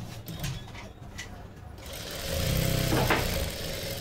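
A sewing machine stitches a blouse being fitted with elastic, its steady motor hum swelling louder in the second half of the stretch.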